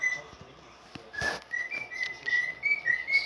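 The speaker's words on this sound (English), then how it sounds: "This type is a cockatiel and he does sing a lot" A pet cockatiel sings a string of clear, rising whistled notes, starting faintly and then repeating steadily and fairly close, alone with no talking.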